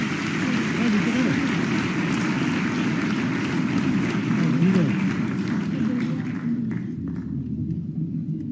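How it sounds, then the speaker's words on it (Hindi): Audience applause greeting the Chief Minister at an orientation ceremony in Bhopal: a dense, sustained wash of clapping from a large crowd, steady and loud throughout, easing slightly toward the end. "आइए पूरे उत्साह से और हृदय से तालियों की गूंज के साथ माननीय मुख्यमंत्री जी का स्वागत करते हैं।"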